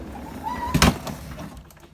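A bottom drawer is pulled open, giving a short scraping slide that peaks in one close, fairly loud burst before fading into room quiet.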